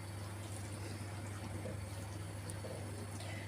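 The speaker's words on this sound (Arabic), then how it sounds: "هنا بقى الطماطم بتاعتنا زي ما انتم شايفين كده غليت" Tomato sauce boils in a cooking pot with a soft, steady bubbling over a constant low hum, faint and close, with no speech.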